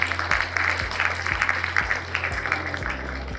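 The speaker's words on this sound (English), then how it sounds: "all the boys should give a big cheer for the girls today graduating" Applause and cheering from a crowd at a polytechnic college graduation day celebration in Salem, honouring graduating girls; a steady, dense wash of clapping and voices sustained throughout, fairly loud and close, with a low hum beneath.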